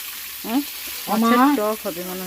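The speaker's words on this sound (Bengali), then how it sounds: "খুব বেশি কড়া করে ভাজবো না মাছ ভাজা হয়ে গেল" Fish frying in a pan gives a steady, soft sizzle throughout, with a voice talking over it in the foreground.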